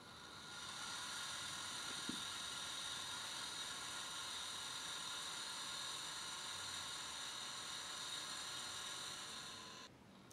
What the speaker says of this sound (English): Here's an example of the 2 RPM DC geared motor panning full speed.